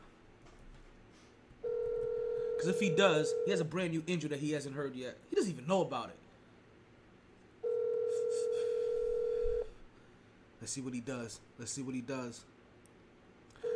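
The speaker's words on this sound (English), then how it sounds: "Let's go ahead and return this phone call" An outgoing phone call placed during a sports podcast: a steady ringback tone sounds twice for about two seconds each, separated and followed by someone talking over the line.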